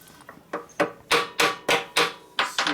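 Hammer blows on a chisel during repair work on a 1988 Harley-Davidson FXR motorcycle, about eight sharp metallic strikes in a quick, slightly uneven rhythm, close and loud.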